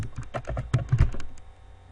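Keys clatter on a computer keyboard in quick, uneven bursts of close clicks as a search term is typed, with no talking over it.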